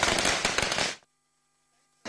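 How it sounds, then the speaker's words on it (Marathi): Firecrackers set off at an MNS street celebration pop in a dense, rapid crackling volley for about a second, then cut to silence before another loud burst begins right at the end. "मनसेकडून फटाके फोडत जल्लोष साजरा करण्यात आला"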